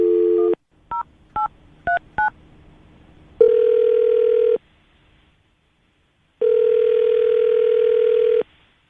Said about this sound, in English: We're about to call John right now